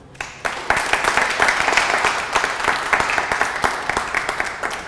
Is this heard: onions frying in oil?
no